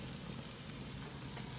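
Fatty sausages sizzle steadily on a Hestan grill broiler with the burners on low, a dense, even frying hiss that carries on without a break.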